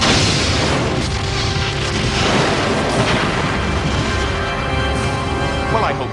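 Borg weapons fire and a ship explosion in the Star Trek: Borg FMV game, a dense, loud rumbling blast that roars continuously for several seconds with crackling bursts layered through it.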